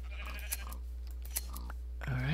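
A sheep in the Minecraft video game bleats once near the end, rising at the close, after faint clicks and game noise fill the earlier part.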